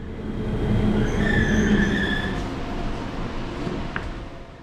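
Interior of an ITX-Maeum passenger train riding along a Korean coastal line, a loud steady rumble of wheels on rails with a faint squealing whine swelling and fading, and a brief clack near the end.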